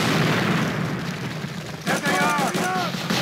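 A grenade blast in the World War II shooter Call of Duty: Roads to Victory, set at Walcheren, booms loudly and rolls on for about two seconds before a soldier's voice shouts over the fading rumble.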